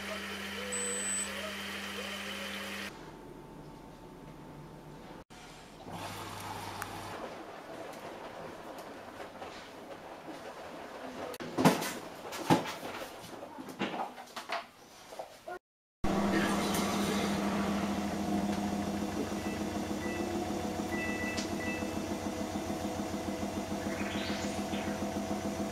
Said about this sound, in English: So I'm going to start the wash cycle and I will see you at the end.